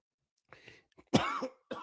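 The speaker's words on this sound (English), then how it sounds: "Cough right in the mic." A single sharp, loud cough bursts close into a microphone, preceded by a few softer throat sounds and followed by a brief trailing noise.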